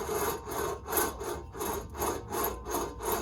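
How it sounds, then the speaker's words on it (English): A rough, grinding whir pulses in a steady cycle about twice a second, a gritty scraping from a worn front wheel bearing on a 2010 Camaro 3.6 turning, fairly faint with no talking. "It shouldn't sound like that. It's real rough. It's because the bearings are done."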